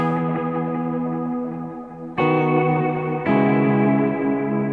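Electric guitar chord voicings ring out in an ambient worship style, washed in reverb, delay and chorus, with three big strummed chords swelling and sustaining, close and alone.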